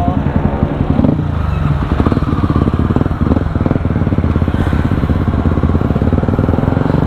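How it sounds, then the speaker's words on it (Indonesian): A Yamaha WR dirt motorcycle runs close by while being ridden, its single-cylinder engine giving a loud, steady, rapid pulsing throb with slight shifts in revs. "motor ini WR"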